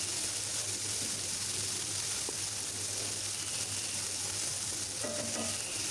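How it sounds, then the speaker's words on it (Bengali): Ginger-garlic paste and spices such as turmeric, chili and coriander powder sizzle steadily in hot oil for a chicken curry, a continuous close frying hiss with a brief stir sound near the end and no talk. "আদা রসুনের পেস্ট একটু তেলের মধ্যে ভাজা হলে তারপরে আমি দিয়ে দিব হলুদ, মরিচ, ধনিয়ার গুঁড়া, একটু ভেজে নিচ্ছি।"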